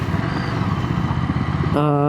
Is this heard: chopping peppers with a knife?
no